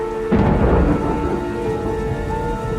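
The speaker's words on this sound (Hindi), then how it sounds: "पर अगली रात बारिश तेज हो गई।" Heavy rain pours down steadily at night while a thunderclap booms close by and rolls away under the downpour.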